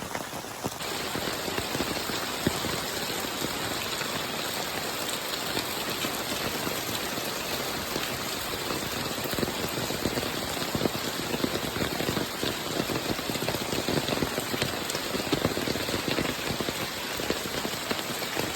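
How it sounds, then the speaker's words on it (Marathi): Heavy monsoon rain pours steadily in the Konkan countryside, a dense, continuous hiss and patter of drops on surfaces that holds at an even loudness throughout, with no voices. "जुनी पाऊस पडता बघा"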